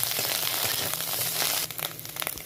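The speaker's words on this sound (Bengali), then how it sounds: "সামান্য একটু তেল দিয়ে দেবো, ভালো করে ভেজে নেব" Fish eggs fry in oil with coriander leaves, giving a dense, continuous sizzling hiss up close that thins slightly toward the end.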